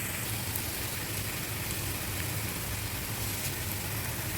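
Shallots, green chillies and curry leaves frying in a pan for a prawn roast, a continuous loud sizzle with a dense crackle that holds steady throughout.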